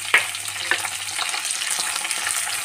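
Cumin, onion and green chilies hit hot oil in a pan for a mixed vegetable curry of peas, carrot, broccoli and mushroom, a close, continuous sizzle opening with a sharp clink as they go in.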